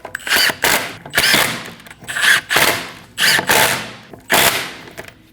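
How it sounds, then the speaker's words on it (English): Pneumatic impact gun snugging down rear wheel lug studs on a 2012-2022 Volkswagen Passat: five loud, close rattling bursts of about half a second each, separated by short pauses. "Snug them down with a gun."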